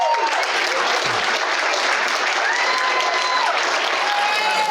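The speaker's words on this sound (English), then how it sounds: "Give him a round of applause," Wedding guests at a reception applaud together in a dense, steady round of clapping that holds at full strength from start to finish, with faint voices and a few cheers mixed into the crowd.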